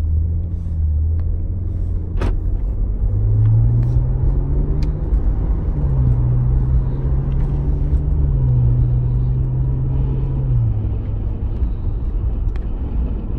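Interior of a Maserati Ghibli SQ4 with 404 horsepower under way, a steady low engine rumble that rises and falls smoothly through gear changes, with faint road noise.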